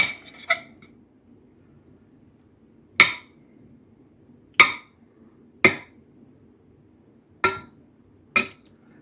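A knife or spoon strikes sharply against a pot while cooked potatoes, carrots and onions are cut apart, six distinct clinks spaced irregularly over a quiet background hum.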